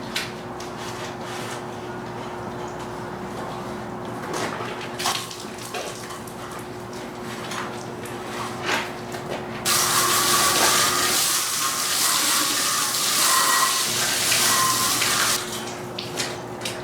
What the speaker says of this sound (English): I thought I would wash the dirt and grease off of this chassis.